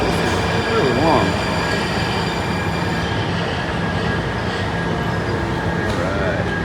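Subway train in a station, a loud continuous rumble with squealing wheels and rail noise throughout, a brief voice heard over it.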